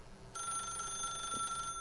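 In The Stanley Parable, an old-style telephone bell rings steadily and fairly quietly in a room, one continuous ringing burst lasting over a second with no talking.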